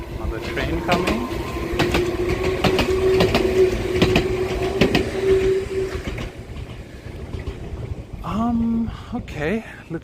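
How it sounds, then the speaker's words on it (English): An Enoden train rolls past on the tracks up close, with loud rhythmic clickety-clack of wheels over rail joints and a sustained tonal whine, fading before a brief squeal near the end as voices talk. "Another train coming."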